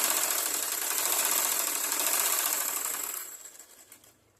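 A sewing machine stitches a jacket piece in a fast, steady whirring run that holds for about three seconds before slowing and stopping, close and fairly loud with no talk.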